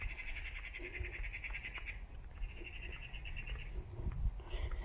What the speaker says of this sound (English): Have you heard them birds?